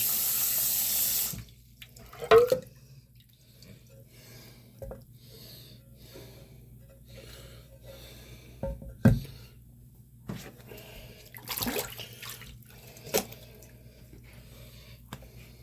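Tap water running over a Naniwa Snow White 8K whetstone being rinsed, a close splashing gush at the start, then scattered drips, knocks and handling noises in a quiet room.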